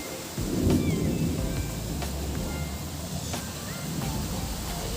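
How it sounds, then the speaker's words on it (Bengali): Heavy rain hisses steadily, with a dull low rumble underneath and a few sharp knocks scattered throughout. "বাইরে সেই লেভেলের বৃষ্টি পড়ছে"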